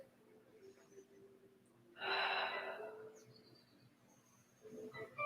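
During a yoga twist, one long, deep, breathy exhale rises mid-clip in a quiet room, soft and close, followed by fainter breaths.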